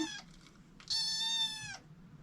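Kittens meow close up: a short high cry opens, followed by one long, loud, sustained meow, with quiet room noise between calls.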